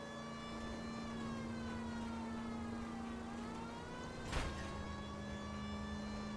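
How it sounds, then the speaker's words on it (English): A police car siren in the video game L.A. Noire wails continuously at a steady pitch, faint and even, with a brief low thump partway through. "You didn't hear my siren?"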